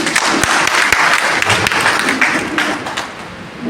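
Audience applause at a stage event, a dense burst of many hands clapping continuously and loudly throughout, with no talk over it.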